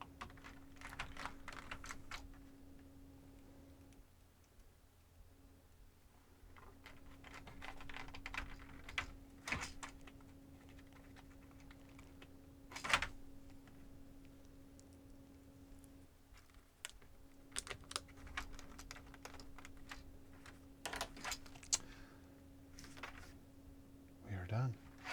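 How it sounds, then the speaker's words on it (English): Computer keyboard being reassembled after breaking: scattered clicks, taps and plastic snaps of keys being fitted, faint and close, with a steady low hum beneath and a louder click near the middle. "Broken keyboard reassembled."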